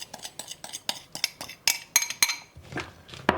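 A utensil clinks rhythmically against a bowl as salad ingredients for a nasi goreng meal are stirred, a steady series of close, sharp taps followed by a softer scraping swirl.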